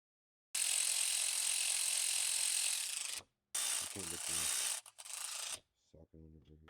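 A ratchet tightens plenum-to-runner bolts on a Gen V L83 V8 engine, heard close up as long, fast clicking runs broken by short pauses and then quicker, choppier bursts.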